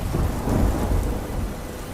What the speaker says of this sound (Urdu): بارش کی گرتی بوندیں، بجلی کی چمک، بادلوں کی گرج سحر کو خوف کے اندھیروں میں دھکیل رہی تھی